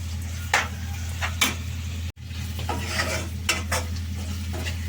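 Ginger garlic paste frying in a pan for crab curry, a steady sizzle with intermittent scraping stirs over a low background hum, no talking.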